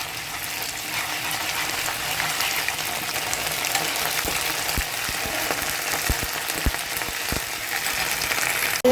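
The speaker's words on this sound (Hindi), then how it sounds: "यहाँ पर अदरक लहसुन का पेस्ट भी हम भूनेंगे।" Ginger garlic paste frying in a pan, a steady close sizzle with scattered crackles and pops that grow denser toward the end, no talking.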